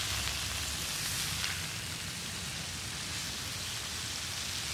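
Meat sizzles steadily as it browns in a pan, a loud, even hiss of frying that continues without a break.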